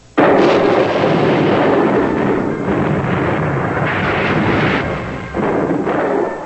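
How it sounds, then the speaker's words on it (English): British guns bombard forts at Canton in a continuous, dense roar of heavy artillery fire, loud and rumbling with overlapping booms and no pause. "In Canton, British guns pounded local forts."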